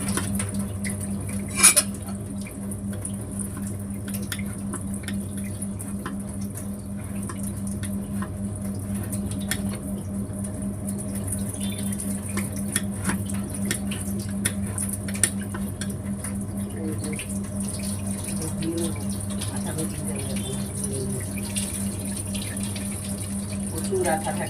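Raw jackfruit being washed under a running kitchen tap, a steady close water stream with a constant hum underneath, occasional knocks and clinks of the fruit against the sink and pans.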